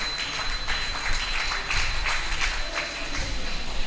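A church congregation applauds in a steady, dense patter of clapping that continues throughout.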